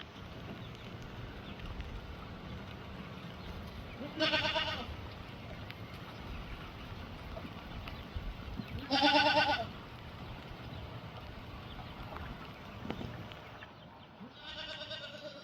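Goats on a small farm bleat three separate times, spaced several seconds apart, moderately close against a faint outdoor breeze with no talk.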